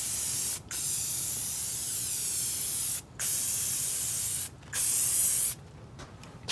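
Long continuous bursts of pressurized cleaner spray hiss over a motorbike's plastics, four main blasts separated by short pauses, close and steady, with no talking.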